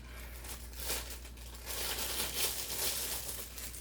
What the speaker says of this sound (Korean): 이걸 비닐장갑이고요.